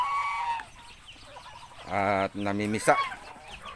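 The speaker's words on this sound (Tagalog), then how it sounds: "Tignan naman natin yung mga nangingitlog natin ducks." Egg-laying ducks on a farm give a couple of short, nasal, harmonic calls close by in the middle of the clip. Someone speaks briefly beforehand.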